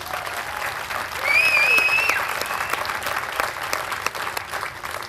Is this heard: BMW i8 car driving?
no